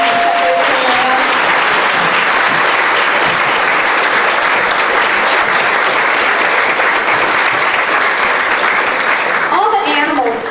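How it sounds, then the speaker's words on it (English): Audience gives sustained loud applause for a children's shepherds and lambs performance in a school play, steady clapping throughout with a voice briefly heard near the end. "Give them a round of applause."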